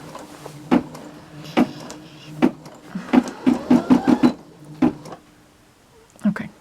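An embroidery machine stitching an in-the-hoop Christmas ornament gives off a series of sharp mechanical thumps, some spaced and some in a quick run of rapid stitches, fairly close, then a pause before another burst.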